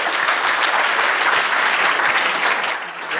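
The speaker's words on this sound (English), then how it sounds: "Another big round of applause for EVMatch." An audience at a university startup pitch competition bursts into steady, loud applause, dense clapping that holds evenly and dips briefly near the end.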